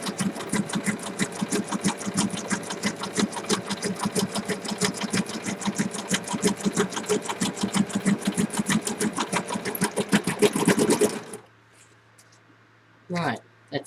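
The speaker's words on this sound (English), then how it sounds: "You can see just my sewing machine" A sewing machine runs in a rapid, steady stitching rhythm for about eleven seconds, then stops abruptly, leaving a quiet room with a brief noise afterward.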